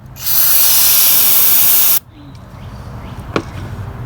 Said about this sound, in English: I'm going to take some of this electronic cleaner stuff and we're going to try to spray it